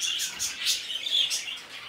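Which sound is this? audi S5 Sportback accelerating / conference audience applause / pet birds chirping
pet birds chirping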